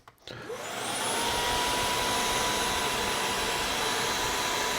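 A Tineco Pure One S70 cordless stick vacuum cleaner switches on and spins up within the first second, then runs at a steady, loud whine with a high tone held throughout, no voices.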